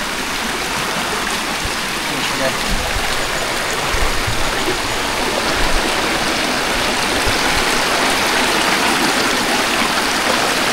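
A mountain river streams steadily along a hiking trail on Gunung Besar Hantu in Negeri Sembilan, Malaysia, a dense broadband rush of flowing water heard close and continuous throughout.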